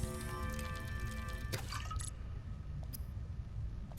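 Crafting sound effect in the video game Subnautica Below Zero as water is made: a bright watery, drippy filling burst with glassy clinks, a sharp transient midway, then quieter synthetic tones over a low ambient game hum.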